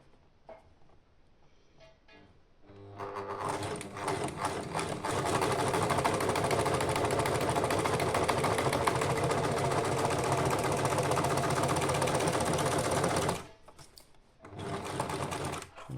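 An overlock serger finishes a seam on baby coat fabric, starting with faint handling, then running in a loud, fast, steady mechanical whir for about ten seconds before a brief pause and a short final burst.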